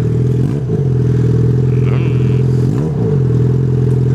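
A motorcycle with a broken exhaust pipe, heard up close, loud and steady with two brief revs that swell and fall back to a rough, buzzy idle.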